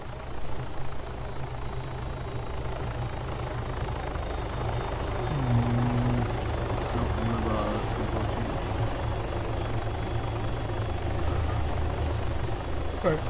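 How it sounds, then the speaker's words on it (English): A helicopter in the video game Arma 3 drones as a steady low rotor-and-engine hum, fairly distant and constant throughout, with no talking over it. "I can hear a heli."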